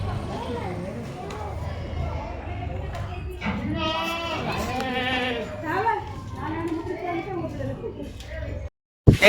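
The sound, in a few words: Kathiawadi goats bleating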